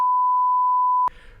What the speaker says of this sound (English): I think it's funnier when you beep the swear